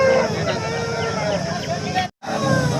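Chickens, young roosters and hens, call amid the crowded Saturday hen market at Mydukur, their clucks and crows blending into a dense, steady din of voices and bustle with one brief dropout near the end.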